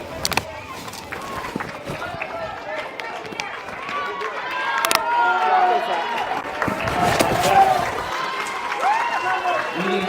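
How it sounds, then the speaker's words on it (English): Crowd at a baseball game cheering for both teams, with scattered claps, shouts and rising cheers at close to middle distance, mixed with people talking throughout. "Well, the crowd really getting into it from both sides as Chanute trying to encourage their team to win."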